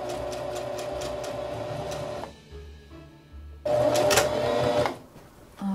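Sewing machine running a seam with a dense, rapid mechanical stitching chatter in two bursts separated by a short pause, close and fairly loud.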